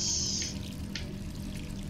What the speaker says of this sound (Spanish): el agua está saliendo, vamos a cerrar